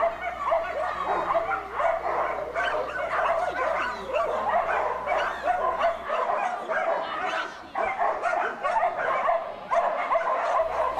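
Many dogs bark and yip nonstop at a 2008 outdoor flyball dog sport event in Ramona, California, where corgis compete, with a crowd of people talking underneath the dense, continuous barking.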